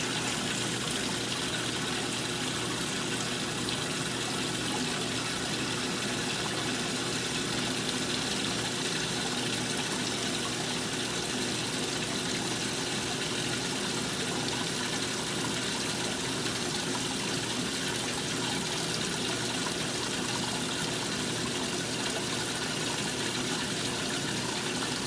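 A Maytag washing machine fills with water, giving a steady, even rush and gush of liquid that runs without a break. There is no talk over it.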